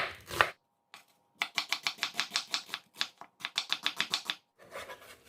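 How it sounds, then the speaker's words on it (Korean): Knife cutting red onion into fine julienne strips on a cutting board for young radish kimchi, a quick run of crisp rhythmic chops in two bursts with short pauses, close and clear with no talk. "좀 곱게 채로 썰어 주시면 돼요."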